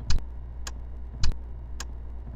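A cappella voices imitate a ticking noise with short, sharp clicks spaced evenly about every half second over a low sustained hum, close and clear, with no words.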